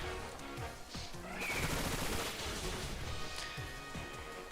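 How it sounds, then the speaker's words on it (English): Bullet Seed attack in the video game Pokémon Scarlet, a dense rapid volley of popping, crackling hits like a burst of gunfire, loud and sustained for several seconds with no talk over it. "let's go ahead and Bullet Seed"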